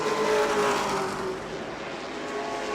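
Stock cars race at New Smyrna Speedway, a loud, continuous engine drone from the pack that fades slightly midway and then builds again, with no voices over it.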